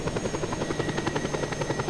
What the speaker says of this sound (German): Den Helikopter, den nehme ich mit zur nächsten Mission.